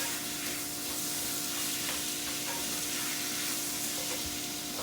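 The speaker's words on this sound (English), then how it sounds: "I'm going to add our chopped tomatoes. I'm going to again add salt at this point. Give it a good stir." Chopped tomatoes sizzle and hiss steadily in a hot pan while being stirred, a continuous close frying crackle with faint clinks of the spoon, no voices.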